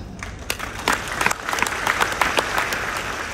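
Audience applause at an Islamic talk by a preacher, steady dense clapping throughout with a few louder individual claps standing out, no voices over it.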